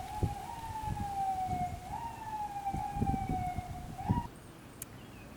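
An emergency siren wails through the streets of the Bronx, New York, its steady rising and falling tone heard at a distance over low traffic rumble before it cuts off near the end, with no talking.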